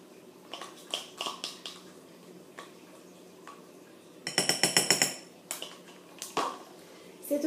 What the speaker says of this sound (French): On va venir la verser dans notre préparation et on va mélanger à nouveau.